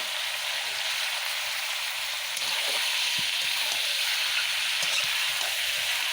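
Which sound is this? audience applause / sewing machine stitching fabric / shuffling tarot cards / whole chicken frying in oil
whole chicken frying in oil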